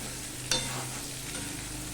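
Vegetables fry with tempering spices in hot oil, giving a steady close sizzle throughout, with one brief sharper crackle or stir near the start and no talking.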